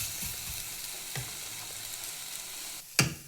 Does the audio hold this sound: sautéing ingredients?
yes